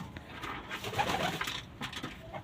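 French Lahm pigeons coo softly in a loft of breeding pairs, a steady low murmuring that goes on throughout at moderate distance, with no talk.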